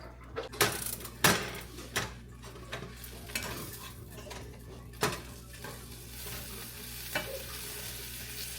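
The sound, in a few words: eggs frying in a pan for breakfast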